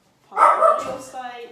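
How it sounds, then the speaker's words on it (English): A dog gives a brief, sharp bark and a short yip close by, breaking in on a person speaking during an abdominal health assessment. "Sorry for my dog."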